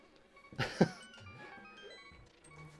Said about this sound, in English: You heard me sniffing the mic?